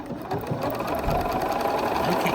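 A sewing machine runs continuously, stitching a quilt block seam with a fast, steady mechanical whir and needle chatter, close and loud with no talking.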